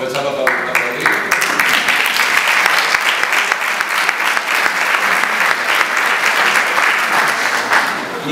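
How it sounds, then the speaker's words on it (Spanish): Audience applause at an Umex course closing ceremony in Mérida, a dense, loud burst of clapping from a hall crowd that holds steady for about eight seconds. "Vamos a aprovecharlo para aplaudir."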